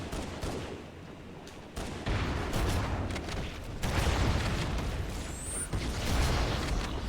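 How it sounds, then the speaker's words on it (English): Enemy gunfire in the video game Halo Anniversary, a dense, loud barrage of rapid shots and blasts, with bursts that swell and drop over several seconds and no voices. "They are now shooting at me."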